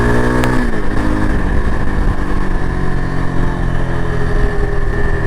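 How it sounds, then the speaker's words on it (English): A Yezdi Adventure motorcycle engine roars steadily at high revs, loud and close, with a dip in pitch early on before holding a constant drone. "If you just twist the throttle, pull the bike to its limits"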